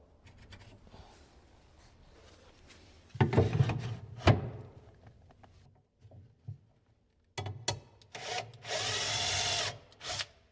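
A power drill with a self-centering VIX bit whirs in a couple of short bursts while installing undermount drawer slides, with a longer, louder run of drilling near the end and quiet pauses between.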